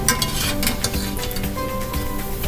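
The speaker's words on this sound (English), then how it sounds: "the Swedish pancakes are cooking pretty well" Swedish pancakes fry in a pan with a dense, loud sizzle, over a busy backdrop of background music and light clinks of utensils.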